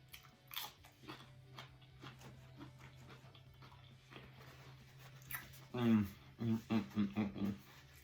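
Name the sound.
biting and chewing onion rings and bacon pita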